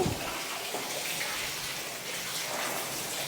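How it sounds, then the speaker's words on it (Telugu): Water runs steadily into an inflatable kids' swimming pool, a constant splashing gush heard fairly close, with no voices over it. "ఇగోండి వాటర్ అయితే ఫిల్ చేస్తున్నాము"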